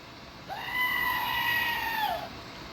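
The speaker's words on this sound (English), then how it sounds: "it is the emergency goat screamer" An emergency goat screamer toy lets out a single loud, drawn-out bleat of about two seconds, wavering and dropping at the end, heard alone with no talk.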